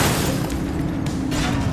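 A vehicle catches fire and explodes in the police game The Precinct, giving a loud, dense roar of rumbling blast noise that holds steady for the whole moment with no gaps.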